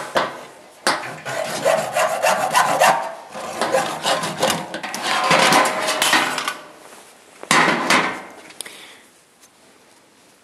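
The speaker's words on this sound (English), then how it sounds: "now I'm just going to cut the PVC pipe off right along this line here" A saw cuts through PVC pipe, making rhythmic rasping back-and-forth strokes, close and fairly loud, with brief pauses before a final few strokes.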